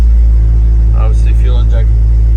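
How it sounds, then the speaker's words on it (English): LS V8 in a fuel-injected 1964 Chevrolet C10 restomod idling after a cold start, a loud, steady, deep rumble throughout with someone talking over it briefly. "Give it a fire up here. It's a cold start."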